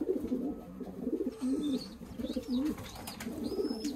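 Pigeons coo in a flyers loft, a close, continuous rolling murmur from several birds with faint higher chirps drifting over it and no voices.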